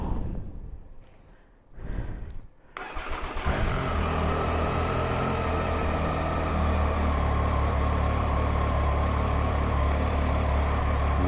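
A motorcycle engine cranks in a few uneven bursts, then catches and settles into a loud, steady close-up idle that holds to the end, with no talking.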